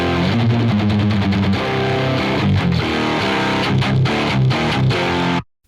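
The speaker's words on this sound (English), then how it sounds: "listen to what Decapitator's doing if I turn it off and then on" A distorted electric guitar riff plays loud and dense, with a Decapitator distortion plugin toggled off and back on, shifting the tone's grit mid-phrase before the sound cuts off abruptly.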